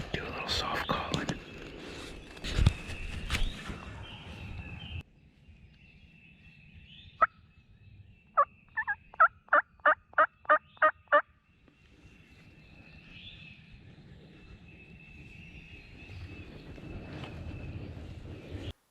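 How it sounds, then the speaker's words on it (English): A wild turkey gobbler gobbles in a North Carolina wood, one gobble followed by a rapid burst of sharp gobbling calls heard from some distance, after an opening of whispered talk and rustling. "He's gobbling right down here"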